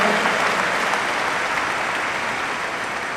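A large gathering at an International Yoga Day launch claps loudly and continuously in welcome, a dense, full roar of applause that holds steady and fades only slightly.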